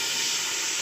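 Blended onion paste, mixed with a little water, hits hot oil in a pressure cooker and gives a steady, close sizzling hiss for under a second.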